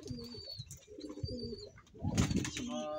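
Domestic pigeons coo in a loft, several low rolling coos repeating close by, with a louder burst of cooing and shuffling near the end.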